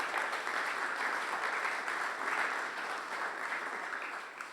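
A church congregation applauds loudly and steadily for several seconds, a dense continuous clapping that stays even throughout with no voices on top.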